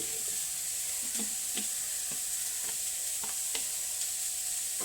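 Coconut oil heating in a pan gives a steady, soft sizzle with faint scattered pops and ticks throughout, close and unbroken, with no talking.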